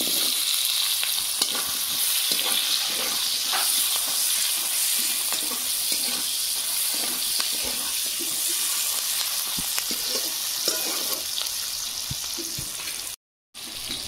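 Chopped onions sizzle and fry steadily in hot oil with dried red chillies and bay leaf in a Bengali kitchen, a continuous loud crackling hiss with faint stirring, briefly cutting out near the end.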